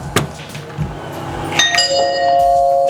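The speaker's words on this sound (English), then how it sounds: "Doorbell works." A doorbell chime rings out, bright ringing tones sounding clearly and lingering over a quiet room.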